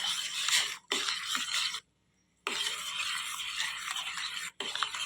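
Multigrain porridge flour paste being stirred into boiling milk, a steady broadband scraping swirl in long strokes with two brief pauses and one full stop, close and fairly loud, no voices.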